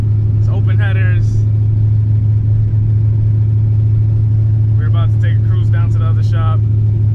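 A Nissan 300ZX with a swapped VH45 V8 running on open headers with no exhaust idles in a loud, constant low rumble, while voices talk over it in two bursts.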